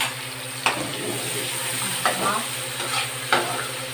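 Garlic and onion fry in a hot pan with a steady close sizzle, broken by three sharp scraping stirs of a spatula.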